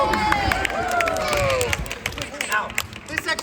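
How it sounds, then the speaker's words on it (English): Audience at a costumed enactment at Hampton Court Palace claps and cheers in a dense, lively burst that thins out into scattered claps, with voices calling out over it. "A round of applause"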